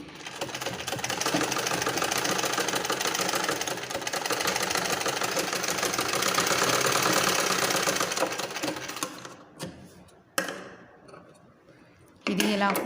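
Sewing machine stitching a matching blouse, a loud steady mechanical whir running for about nine seconds before stopping, followed by a few short clunks and a brief restart.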